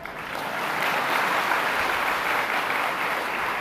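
An audience at a Vachanamrut katha discourse applauds, a thick wash of clapping that builds quickly and holds steady and loud for several seconds.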